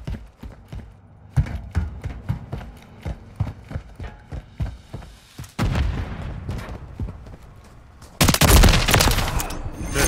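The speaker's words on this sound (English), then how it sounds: "I'm taking fire!" Gunfire in the video game Call of Duty: rapid bursts of shots crackle one after another, then a loud sustained blast of heavy fire near the end, with no talk.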